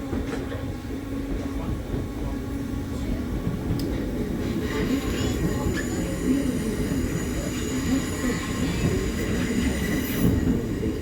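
A Merseyrail-area passenger train bound for Liverpool Central rumbles steadily along the rails, with wheel noise and faint squeals over a continuous low roar, heard from inside.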